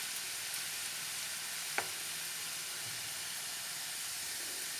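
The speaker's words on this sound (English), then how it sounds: "cook and fry it in medium flame" Potatoes frying in a pan on a medium flame, a continuous quiet hissing sizzle with a single sharp tap partway through.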